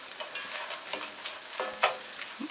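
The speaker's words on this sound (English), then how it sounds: "Okay, now I can add the bacon. Let that heat up again." Bacon frying in a pan alongside drained shirataki noodles for a stir fry, with a soft, continuous sizzle and crackle broken by a few light utensil taps and stirring scrapes.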